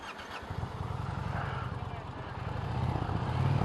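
A 2020 Indian Challenger Dark Horse motorcycle engine idles with a steady, deep throbbing rumble close by, growing slightly louder toward the end.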